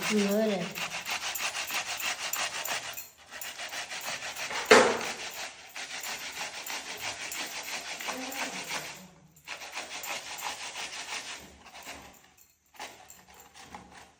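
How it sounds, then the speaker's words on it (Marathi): Cucumber is grated finely by hand, giving rapid rhythmic rasping strokes in bursts with brief pauses and a sharp knock midway, close and fairly loud with no voices. "काकडी आता पूर्णपणे किसून झाली एकदम पाहू शकतो बारीक किस बनवलेला आहे"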